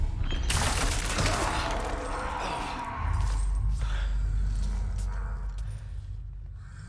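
Gunfire from Resident Evil 4 Remake, shots at a parasite enemy: a dense, loud burst of shooting early on, then continuing rumbling game action and impacts with no speech.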